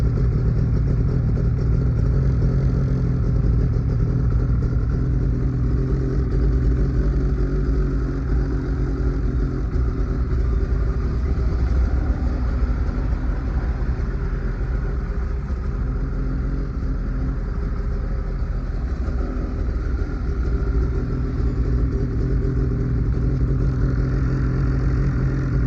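A Ski-Doo 800 Renegade XRS snowmobile engine idles in a steady, rough two-stroke rumble with clattering mechanical noise, running close by and unbroken throughout.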